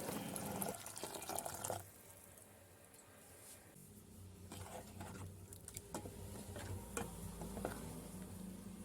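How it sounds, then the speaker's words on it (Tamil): Water poured into a pan of Sri Lankan-style jackfruit curry with coconut, a close splashing pour with soft liquid trickles and light clinks, steady for several seconds. "இன்னும் கொஞ்சம் தண்ணி சேர்த்து கொள்வோம்"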